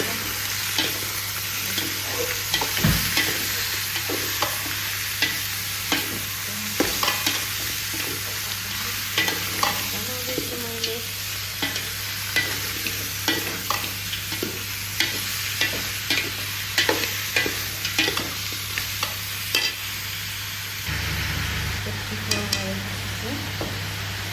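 Vegetables sizzle steadily in a large cooking pot while a utensil stirs and scrapes through them in repeated, irregular strokes, close and clear, with no talking.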